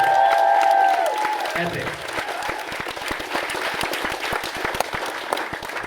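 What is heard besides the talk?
audience applause and cheering for speakers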